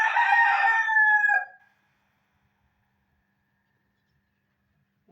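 A rooster lets out a single loud, close crow lasting about a second and a half, followed by near silence.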